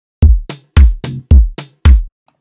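A drum groove shaped by Logic Flex Time and a groove shadow plays alone as seven punchy, booming hits in a steady, slightly uneven rhythm across about two seconds, with each beat ringing out briefly before the next.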